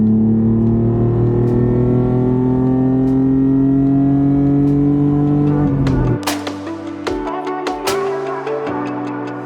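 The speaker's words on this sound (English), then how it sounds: "Do you think he's ever heard a Supra do a third gear pull next to him?" Toyota Supra engine pulling hard through third gear during a vintage rally, loud and close, its tone rising steadily before sharp upshifts and crackling pops, with no talk.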